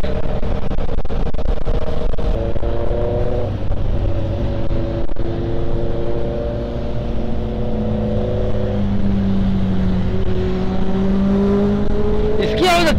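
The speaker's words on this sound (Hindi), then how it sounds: "ये बाइक की आवाज अच्छी है" A Benelli TRK502X motorcycle ridden on a highway ride from Mumbai toward Lonavala, its engine and exhaust droning loudly and steadily with gear-change shifts in pitch, wind noise mixed in and a voice speaking over it.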